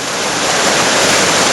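Niagara River rapids in the Niagara Gorge: a loud, steady roar of churning whitewater heard up close, continuous and unbroken, with no talking.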